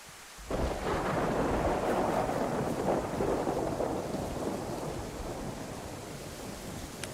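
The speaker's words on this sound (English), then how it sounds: "I think that thunder's helping me a little bit." Thunder in the video game DayZ: a deep, rolling rumble breaks in loudly after a short quiet start and grumbles on steadily, slowly easing off, with rain-like hiss underneath and no voices.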